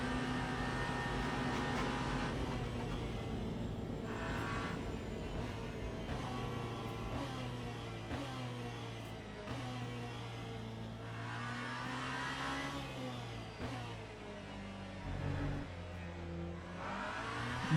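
A Genesis GMR-001 hypercar races in Le Mans Ultimate, its engine droning steadily at high revs with gear changes and rising and falling pitch sweeps, loud and continuous with no speech.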